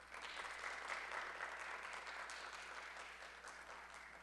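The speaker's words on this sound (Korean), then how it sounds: "박수로 환영해 주시기 바랍니다." Audience at a tea sommelier competition final applauds to welcome an arriving guest, a steady wash of clapping from a large crowd lasting the whole stretch, moderately distant and without speech over it.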